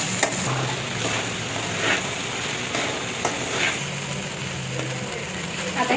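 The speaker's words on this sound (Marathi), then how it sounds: "शाबू टाकल्यानंतर लगेच आता हे परतून घेते." Sago pearls sautéed in a pan give a steady low sizzle and frying hiss throughout, with a few soft stirring scrapes rising at intervals.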